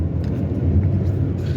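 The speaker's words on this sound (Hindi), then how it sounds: "गाड़ी को एक्सेलरेट करते हैं।" A car engine accelerating while driving on a road, a loud, steady low rumble of motor and road noise heard from inside the vehicle with no talking.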